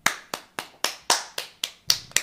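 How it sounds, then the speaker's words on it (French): Nine crisp hand claps ring out at a steady, brisk pace, close and sharp, each with a quick decay and no talking. "T'as vu comme j'applaudis?"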